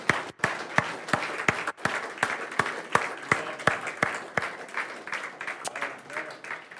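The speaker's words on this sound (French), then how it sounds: "Acclamons notre Dieu bien-aimé." A church congregation applauds in worship with sharp, rhythmic, fairly even claps from a crowd, mixed with voices calling out over the clapping.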